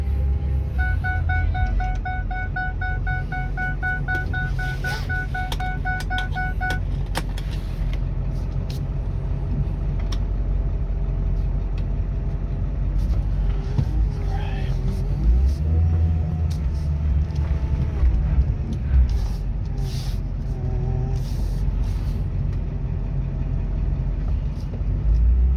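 A 2002 Ford F250 4WD pickup with the 7.3L diesel rumbles steadily as it pulls away and works through its gears, a deep continuous engine drone with shifting load and a few brief clicks, heard from inside the cab.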